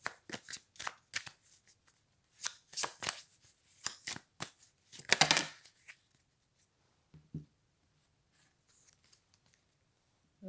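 Tarot cards shuffled by hand in rapid riffling bursts, crisp and close, pausing briefly between rounds before trailing off into quiet.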